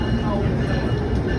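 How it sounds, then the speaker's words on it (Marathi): An Amtrak train at Washington DC station gives a steady, close, low rumble that holds at an even level throughout the short moment. "या ट्रेनने मी आलो आत्ता ॲम्ट्रॅक"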